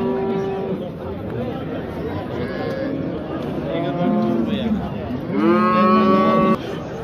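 Cattle at a livestock market bellow with several loud, drawn-out moos, the last one nearest and strongest, over a constant background of crowd chatter and people talking.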